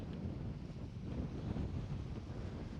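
Steady wind gusting against the microphone on an exposed Welsh mountain, Glasgwm, a continuous low roar throughout with no voices.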